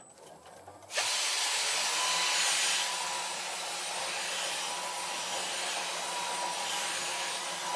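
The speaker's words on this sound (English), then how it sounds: "We don't want to be spending too much time sanding." A power sander on wood whines steadily and loudly after a brief quieter start, a continuous broadband grinding hum, with no talk.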